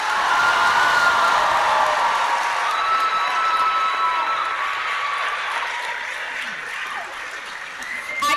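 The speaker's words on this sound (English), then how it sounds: "How about one last round of applause for all these gentlemen and their stunning guests?" Sustained applause from a crowd at a high school pageant, saluting the contestants and their guests; a dense wash of clapping with scattered cheers holds steady and then tapers slightly toward the end.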